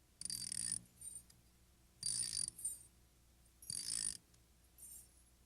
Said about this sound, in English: Now stand back while I wind up the toy machine.